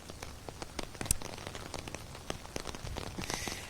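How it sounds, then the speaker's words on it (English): Steady rain patters onto an umbrella and the ground outside a polling location at a high school in Shreveport on a wet, windy election morning, a dense, even hiss of drops with scattered sharper taps, fairly quiet and with no one speaking. "And you have the umbrella out, and we can hear the rain."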